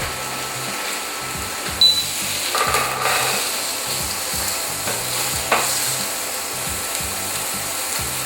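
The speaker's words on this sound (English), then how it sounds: "on the high heat, sear both sides" A hamburger patty sears on high heat, a steady close crackling sizzle with a few sharper pops and scraping sounds, with no talking.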